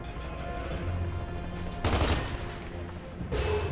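Gunfire in the video game Gears of War 2, with two loud broadband shots a little over a second apart over a steady low game rumble.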